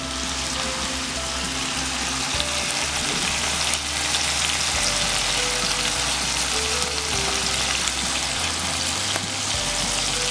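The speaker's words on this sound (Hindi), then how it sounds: "चिकन हमने पकाने के लिए रख दिया है।" Marinated tandoori chicken sizzles loudly in a pan after being flipped, a constant close frying hiss with a low hum beneath it and no speech.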